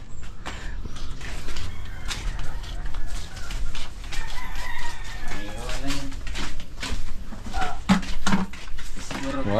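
A flock of about a hundred chicks chirps continuously in a small pen, with adult chickens clucking and a rooster crowing among them, plus occasional clatter of pans, while a person talks over the birds.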